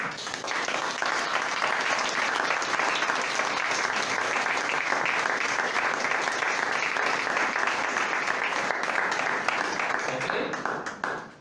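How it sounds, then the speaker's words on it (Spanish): Church congregation gives a long round of applause during a sermon, a dense and steady wash of clapping from many hands lasting over ten seconds before dropping off quickly at the end. "Denle un aplauso al Señor"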